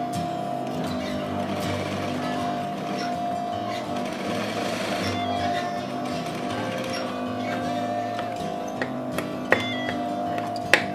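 Sewing machine stitching the back bodice of a child's gamis pattern, a steady continuous motor hum with rapid needle ticking throughout, close and fairly loud, with a couple of small taps near the end.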